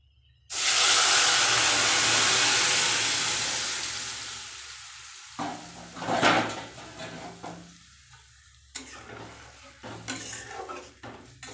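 Chickpea dal (cholar dal) hits a hot pan with a loud, sudden sizzle that fades slowly, then gives way to intermittent stirring and scraping clatter against the pan.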